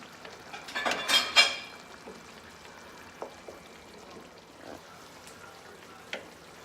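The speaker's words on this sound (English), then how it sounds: "Sit on the lowest simmer that you can get that burner." Tuna steaks simmering in red tomato sauce on a burner, giving a soft bubbling sizzle that peaks briefly near the start and then settles into faint, sparse pops and spits.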